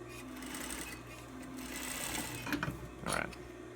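A sewing machine runs steadily while top stitching a pinch front seam, a close continuous mechanical whir with a few brief clicks near the end, and a voice faintly in the background.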